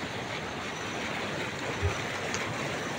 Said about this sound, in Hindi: और ये पानी का तेज बहाव पुराना पुल के नीचे,